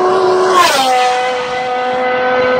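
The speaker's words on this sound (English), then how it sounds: "The engine sound on this car is amazing" A high-revving V10 car engine screams loudly and close, its pitch dropping sharply as it shifts, then holding a steady, sustained drone.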